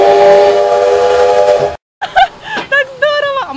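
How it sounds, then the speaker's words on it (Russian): An old steam train whistle blows loud and steady for nearly two seconds on a restored historic train in Berezniki, then cuts off as excited voices talk. "Нам бы что полегче. Например, гудок."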